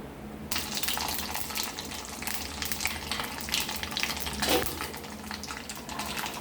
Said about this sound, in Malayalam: വെളിച്ചെണ്ണ ചൂടാകുമ്പോൾ കടുക് ഇട്ട് കൊടുക്കുന്നുണ്ട്.